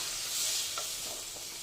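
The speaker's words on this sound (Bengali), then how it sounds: "আমি একটু জল অ্যাড করছি আমি জলটা দিচ্ছি গরম জল" Hot water hits a pan of frying potato curry (aloo dum), raising a steady broad sizzle with a few faint stirring scrapes, close and alone without talk.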